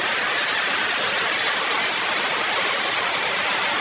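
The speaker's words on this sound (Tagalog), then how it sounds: "Lakas ng ulan." Heavy rain pours down steadily in a home garden, a dense, loud, unbroken hiss of water hitting surfaces, with no voices over it.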